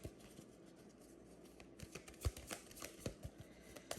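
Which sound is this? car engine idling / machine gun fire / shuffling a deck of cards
shuffling a deck of cards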